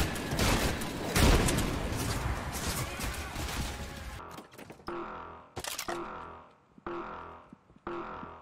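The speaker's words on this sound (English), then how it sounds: "Oh, I shot the grenade." A grenade blast and rapid gunfire in the shooter game Trepang2, a loud dense roar of shots and explosion followed by sharp separate bursts and pauses.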